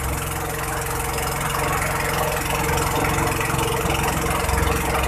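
A motor boat engine on Rawa Pening lake runs steadily close by, a loud, even chugging drone with faint knocking and broadband rush of water and wind, no voices over it.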